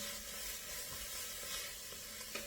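A spoonful of garlic sizzles softly in a soup pot for tomato soup, a faint continuous hiss with a small clink near the end.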